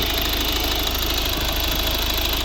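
Close, steady idle of a 1.6-litre D2 diesel engine in a 2011 Volvo V50, a rattling, knocking clatter that runs evenly without change.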